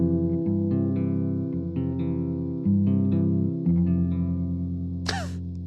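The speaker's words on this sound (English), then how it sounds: "So that's the sound of the Big Sky." An electric guitar strumming chords, including F over C, through a Big Sky reverb pedal, with lush, sustained washes of reverb and repeated strums over several seconds, ending with a brief bright squeak.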